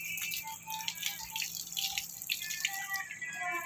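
Water runs steadily with scattered drips and splashes while a pet dog is bathed, a continuous wet hiss that stays fairly quiet and close throughout.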